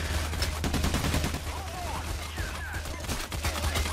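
Gunfire in the video game PAYDAY: The Heist: dense, continuous automatic shooting and rapid shots over a steady low hum. It is loud throughout, with brief voices underneath.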